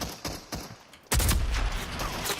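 Rapid gunfire rattles in the shooter game Rogue Company, a few spaced shots followed by a sustained loud burst of automatic fire.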